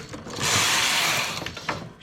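A knitting machine's needle is pulled up while lace shorts are knitted, giving a sustained close mechanical scraping rattle that swells, holds and then fades, with a few small clicks at the end.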